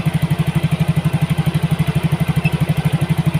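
Yamaha Mio GT scooter engine running with a replaced injector and adjusted fuel mixture, a loud, steady idle with a fast, even pulsing thrum close to the microphone.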